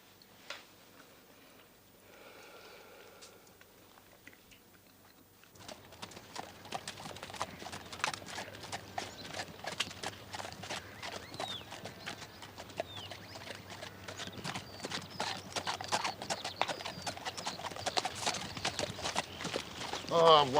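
A lame horse's hooves clip-clop in a steady, close rhythm after a quiet opening, growing a little louder toward the end.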